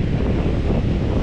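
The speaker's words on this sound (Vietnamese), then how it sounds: "Đây là bãi biển chiều nay sóng cũng khá là dữ dội sau những ngày mưa gió" Rough sea waves on a beach in Hue after days of rain and wind, a brief, loud, continuous roar of surf with wind buffeting the microphone, no voices.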